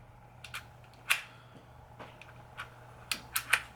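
A Glock 44 .22 LR pistol's trigger is pulled and reset, producing several sharp, dry clicks at irregular intervals, close-up over quiet room tone with no talking.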